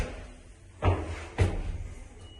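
Lift doors in a Hereford city centre lift opening at the ground floor, two short thuds of the door mechanism a half-second apart over a steady low hum of the car.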